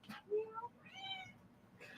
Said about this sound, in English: If you can hear her meowing